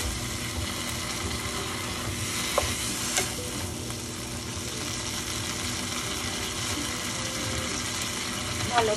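Boiled mixed lentils, cooked with turmeric, go into a hot frying pan and get stirred. The result is a steady sizzle with wet scraping and stirring noises throughout, plus a few louder knocks.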